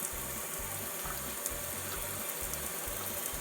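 A kitchen faucet runs hot water at full blast, giving a steady close gushing rush with a low, regular pulsing throb underneath.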